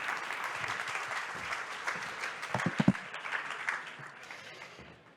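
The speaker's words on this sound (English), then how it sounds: "please give yourselves a big round of applause" An audience at a climate-neutral smart cities kick-off event applauds, a lively burst of clapping that peaks midway with a few louder claps, then gradually thins out and fades.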